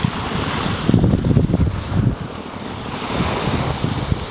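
Wind buffets the microphone over steady surf washing onto a bay beach, continuous and fairly loud throughout, with gusts that swell and ease and no voices.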